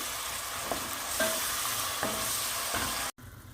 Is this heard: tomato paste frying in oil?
yes